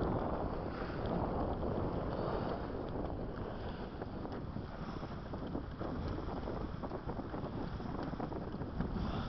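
Strong wind fills the sails of a sailboat making good speed near Bandholm; a continuous, loud roar of wind and water wash dominates with constant microphone buffeting.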